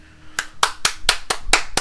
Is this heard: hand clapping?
yes